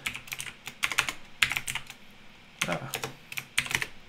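Quick bursts of keystrokes on a computer keyboard while coding, close and crisp, in uneven clusters separated by short pauses.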